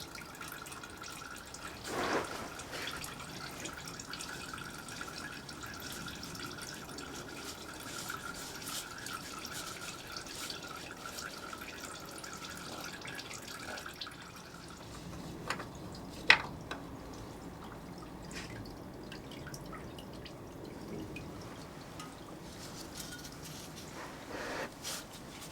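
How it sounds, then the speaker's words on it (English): Engine oil draining from a Honda CB650R motorcycle during an oil service, a faint steady trickle with occasional drips and small clanks in a quiet space. "Let that drain a little bit."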